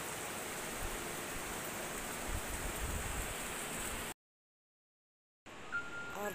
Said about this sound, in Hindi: अभी इतनी जोर की बारिश लग रही है आप लोग देख सकते हो।